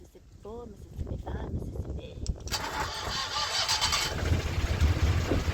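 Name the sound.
narrowboat engine starting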